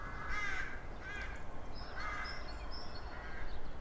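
A crow caws as a sound effect during a French poetry reading, four or five harsh, evenly spaced calls over a low background hiss, with faint chirps in between and no voices.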